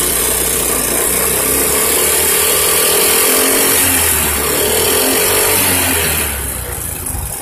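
A Honda Beat 100cc scooter with an AT110 carburetor revs hard, a loud buzzing engine drone that holds high before easing off slightly at the end.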